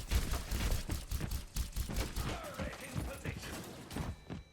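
Rapid bursts of turret gunfire in the video game Overwatch 2, a dense rattle of shots repeating close by, with a voice talking over the fire.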